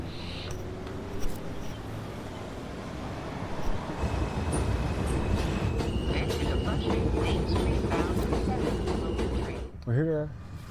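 A New York subway train runs at Court Square Station with a dense, steady rumble of wheels on rails, ending in a brief high screech near the finish.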